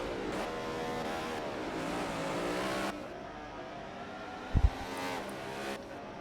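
Race cars lapping Sonoma in the XRS Cup racing video game, engines revving and shifting pitch up and down, a loud steady drone dropping after a few seconds, with a sharp low thump near the end.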